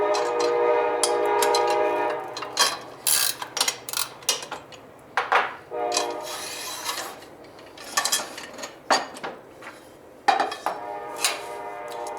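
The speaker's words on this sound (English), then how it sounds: "There's a train." A passing train rattles and clanks along the tracks with repeated loud metallic bangs and a horn-like tone early on, close by and dominant.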